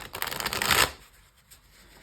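A short riffle of tarot cards being shuffled, a quick fluttering burst that stops after under a second, then near silence.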